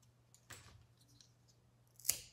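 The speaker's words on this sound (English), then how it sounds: "score your popsicle stick" Scissors scoring a wooden popsicle stick in a quiet craft setting: two short scraping cuts roughly a second and a half apart, the second one sharper and louder, close to the listener.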